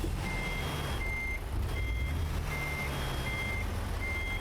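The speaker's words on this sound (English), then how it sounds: "you'd have to listen to this horrible beeping for however long it takes for it to stop beeping" A truck in American Truck Simulator sounds its reversing alarm, steady repeated electronic beeps at an even pace over a constant low engine hum.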